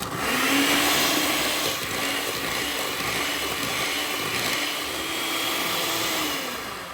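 An electric mixer beats pumpkin loaf batter with sour cream, giving a close, loud, steady whir that holds for about seven seconds with no talking.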